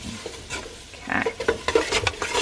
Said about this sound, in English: we stirred in the shrimp broth into the roux